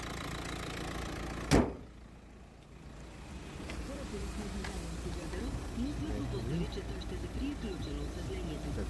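A serviced Nissan car engine idles with a faint, even low hum that runs steadily throughout after a brief sharp knock early on.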